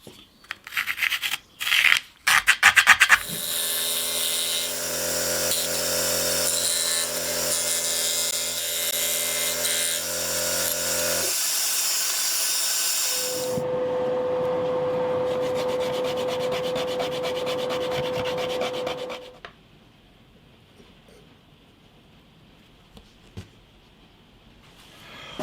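A power tool cuts a slot in a wooden guitar back plate: a few sharp knocks, then a long loud whining grind, a pause, and a second steady high-pitched run before the tool winds down to quiet shop noise.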